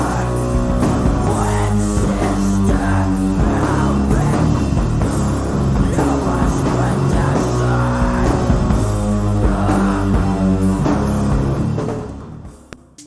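Sludge metal: thick, loud, distorted guitars and drums grinding on continuously before cutting off abruptly near the end.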